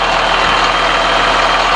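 A Caterpillar C7 diesel, 2004 engine, in a 2005 Blue Bird All American school bus without an AC compressor, runs with a steady, loud, close idle rumble throughout.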